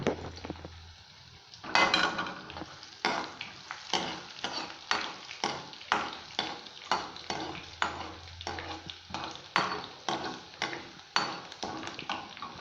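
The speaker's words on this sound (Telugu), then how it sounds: "దీంట్లో పచ్చిమిర్చి అయితే ఇప్పుడు వేసారండి" Green chillies fry in mustard oil in a pan for Maggi noodles, with a steady sizzle under repeated scraping stir strokes and light metallic clinks, close and fairly loud, with no talking.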